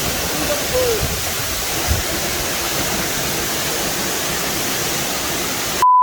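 Steady, broad rushing of falling water at Igdugang Falls in Bugasong, Antique, Philippines, fills the scene, a constant close roar, with faint voices briefly audible beneath it.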